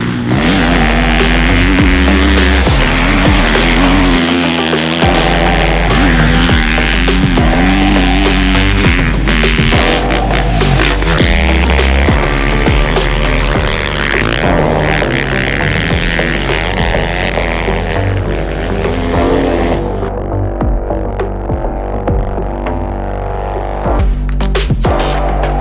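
A 2022 Husqvarna FC450 Rockstar Edition dirt bike roars loud and steady throughout, its engine note rising and falling as the rider works through the gears on a ride.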